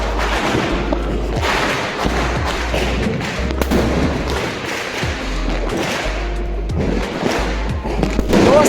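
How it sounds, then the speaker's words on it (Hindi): Diwali firecrackers bursting outdoors: a rapid, loud string of cracks and thuds with heavy low booms, continuous crackling throughout and a strong burst near the end. "ये हमारा इस दिवाली का आखिरी बम है"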